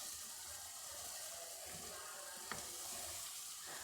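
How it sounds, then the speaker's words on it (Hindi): A spoon stirs brain masala with tomatoes in a frying pan over a high flame. A steady, faint sizzle hisses throughout, with soft scraping and one brief clink of the spoon, and no talk. "थोड़ा मैं इसमें चमचा चला के चेक कर लेती हूँ।"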